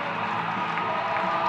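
Dense crowd noise roars steadily throughout, a broad wash of cheering and applause at an indoor track race, loud and continuous with no distinct voices standing out.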